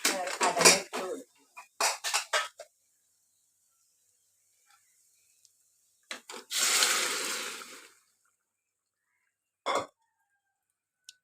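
Chickpeas go into hot, shimmering oil in a pan for kadala curry, giving a brief, close sizzling burst that follows several clinks and clatters of utensils and pans, with quiet gaps between.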